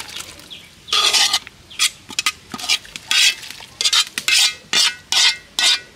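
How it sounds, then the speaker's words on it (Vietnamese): Stir-fried cabbage goes into a pot of duck and is stirred. Repeated bursts of scraping and sizzling come in an uneven rhythm, close and fairly loud, with short quiet gaps between strokes and no talking. "Cải nghe xào xong rồi nhà mẹ cho vô trong cái nồi vịt luôn."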